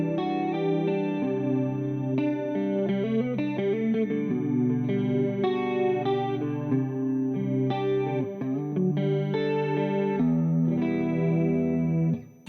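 Electric guitar played clean through a shimmering chorus pedal with a compressor, strummed chords and melodic lines ringing steadily, loud and close, with no voices.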